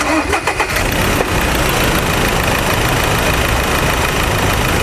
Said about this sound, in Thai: เดี๋ยวเราไปฟังเสียงเครื่องยนต์กัน